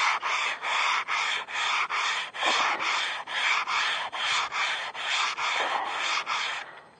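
Steady back-and-forth rubbing of a styrofoam block wrapped with sandpaper, wet-sanding clear coat on a painted car fender, about a dozen even strokes at close range.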